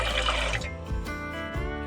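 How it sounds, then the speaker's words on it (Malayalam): Water is poured from a vessel into a pressure cooker holding eggs, a close, continuous splashing and gurgling fill with a brief hollow slosh partway through. "ഇതേപ്പോൾ ആവശ്യത്തിന് വെള്ളം ഒഴിക്കാണ്"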